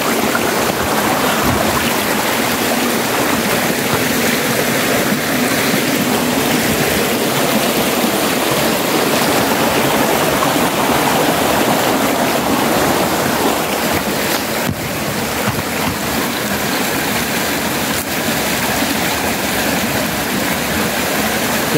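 Stream water flows in a constant loud broadband rush, steady for the whole stretch with no voices, heavy enough to resemble surf or wind.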